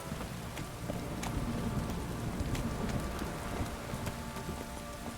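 Steady rain in the video game The Witcher 3: Wild Hunt patters on a surface, with scattered louder drops and a low rumble underneath, no voices.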